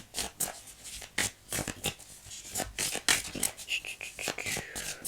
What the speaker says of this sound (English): Let me shuffle some more because